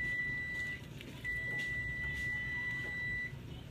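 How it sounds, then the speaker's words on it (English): An oven timer beeps with a sustained high electronic tone, pausing briefly before a longer second beep, fairly faint against a quiet room. "Stop beeping. Enough with the beeping."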